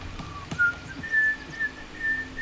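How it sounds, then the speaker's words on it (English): A person whistles a simple, wavering tune over several seconds while chopping wood in a forest, with a few sharp wood-chop knocks near the start beneath the steady, moderately loud whistle. "I won't sing when I'm chopping. I'll whistle."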